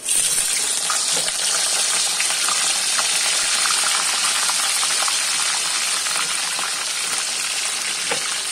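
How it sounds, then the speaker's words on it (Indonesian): Food for breakfast sizzles in a frying pan with a constant, close crackling hiss dotted with small pops and spits, loud and steady with no speech. "Untuk proses penggorengan"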